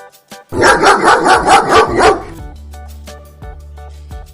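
A dog barks in a quick run of about six loud, evenly spaced barks, followed by softer, faint whimpering yelps trailing off.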